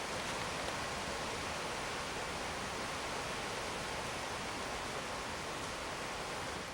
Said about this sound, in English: From the bridge, the view of the waterfall flow was just as amazing.